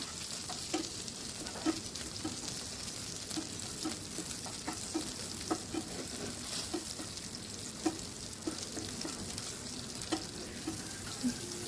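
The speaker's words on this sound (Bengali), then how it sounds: "এখানে একসাথে দিয়ে দিয়েছি মরিচ, শুকনো মরিচ, ভালো করে ভেজে নিব" Fish fries in oil alongside fresh and dried chillies with a constant bright sizzle, punctuated by regular light taps of a spatula stirring the pan.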